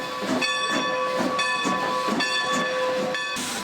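Steam locomotive on the Strasburg heritage railroad in Pennsylvania, hissing steadily with a bright steam-whistle tone sounding in repeated bursts, loud and close throughout.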